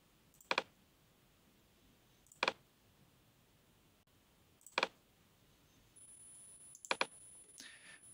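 Computer mouse clicks while navigating DaVinci Resolve editing software: four separate sharp double clicks spaced about two seconds apart, close and crisp over a quiet room, with a faint steady tone near the end.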